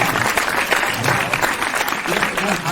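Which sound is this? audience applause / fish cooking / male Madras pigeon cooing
audience applause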